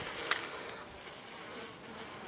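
Honeybees at a hive during an unusually active winter buzz in a steady, continuous drone throughout, with a single soft tap near the start.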